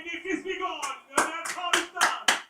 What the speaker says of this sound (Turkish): Tebrik ediyorum gerçekten alkışlıyorum yani.